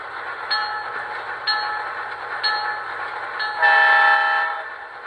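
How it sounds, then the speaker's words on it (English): An MTH PS3 diesel model train bell rings in steady strokes about once a second, with a brighter, louder chime swelling briefly near the end. "And here's the bell."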